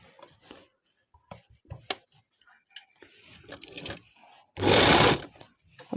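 A sewing machine stitches a belt onto a salwar, running in short bursts of near ticking, with one loud sustained run of stitching toward the end.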